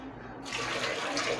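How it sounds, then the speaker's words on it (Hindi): Half a lota of water poured into a pressure cooker holding ten potatoes, a steady close splashing rush that starts abruptly and keeps going without break. "इस तरीके से आधा लोटा पानी डाल दिया है।"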